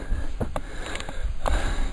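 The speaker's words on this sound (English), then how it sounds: "you can hear my heavy breathing" Heavy, labored breathing of a man at a hilltop overlooking a valley after a strenuous climb, close to the microphone, with repeated sharp breaths in quick succession.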